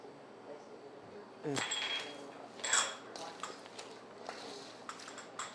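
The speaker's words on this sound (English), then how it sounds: "Then I mix it up thoroughly" Utensils clatter and scrape against a bowl as coleslaw is stirred with sugar and caraway, with a couple of sharper clinks standing out over quieter, intermittent mixing.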